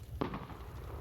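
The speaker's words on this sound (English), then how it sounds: "I heard an explosion." One firework bursts with a single sharp pop in the video game Firework Mania, followed by a brief crackling decay over a low steady background rumble.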